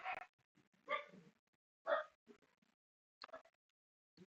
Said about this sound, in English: Them dogs. Them dogs.